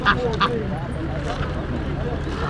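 Several ducks quack in short nasal bursts close by at an animal market in Łomża, Poland, over a steady, busy background rumble and murmur.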